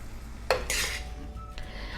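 Chicken fried rice being mixed with sauce in a pan: a sharp utensil clink, then a rough burst of scraping and tossing, followed by quieter stirring.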